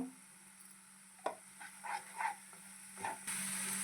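Capsicum and cashew curry cooking in a pan with ground coriander, a steady low sizzle with a few soft stirring scrapes and clinks, close and fairly quiet, with no voices.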